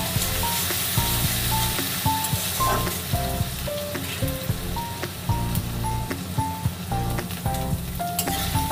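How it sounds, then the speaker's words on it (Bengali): Ginger-garlic paste and masala fry in a pan while cooking a kabuli chana curry, giving a steady sizzle broken by repeated clicks and scrapes of stirring. "এবার আমি এতে দেবো আদা রসুনের পেস্ট, দিয়ে ভালো করে কষিয়ে নেবো মশলাটা।"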